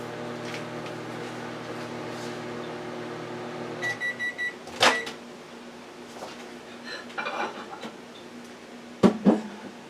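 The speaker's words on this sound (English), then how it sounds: "I'm going to get the chili and cornbread with the cheddar cheese on the top out the microwave" A microwave oven holding chili and cornbread topped with cheddar cheese hums steadily, then gives a short run of beeps, followed by door clunks and clattering handling sounds nearby.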